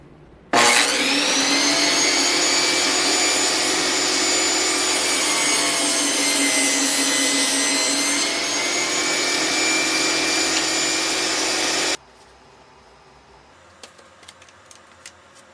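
A saw cuts a wood board held in a taper jig for table legs, a loud close whine that starts abruptly and holds steady for about eleven seconds, its pitch shifting partway through, then cuts off, leaving faint clicks and handling noises.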